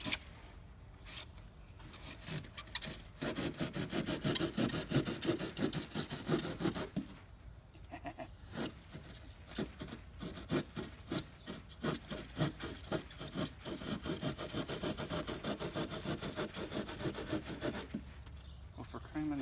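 Foam board for a train layout is cut with steady rasping, scraping strokes that come in bursts with brief pauses, fairly quiet and close, with no talking.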